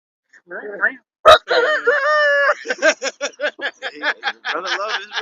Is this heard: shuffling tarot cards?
no